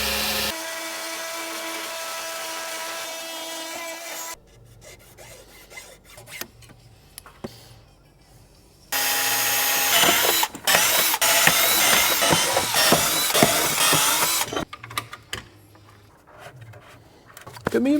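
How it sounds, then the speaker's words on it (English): A power drill whines steadily at first while drilling holes into a tray. A stretch of quieter handling clicks and rattles follows, then louder grinding, rasping bursts with scraping and knocks before another brief whir at the end. "So let's get these drilled."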